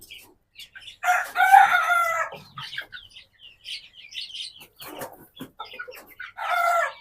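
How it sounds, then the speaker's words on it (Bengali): Lajja breed hens and roosters, mixed with a few hill chickens, cluck and call close by in short bursts, with one loud, drawn-out crow and scattered softer clucks between quiet gaps. "আর এখানে 4টা মোরগ 4টা মুরগি আছে"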